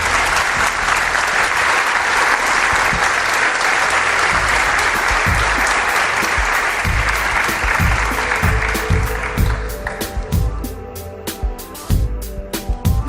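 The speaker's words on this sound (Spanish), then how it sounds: "Pido un aplauso para él." Studio audience applauding on a Spanish television talk show about paranormal phenomena, loud dense clapping that holds steady and then thins into scattered claps near the end.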